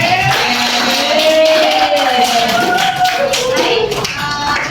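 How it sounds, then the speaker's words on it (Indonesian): Schoolchildren clap their hands together in a classroom, a dense, steady patter of many small claps lasting throughout, with a teacher's voice speaking over it. "ibu minta tepuk tangan ini buat hari ini"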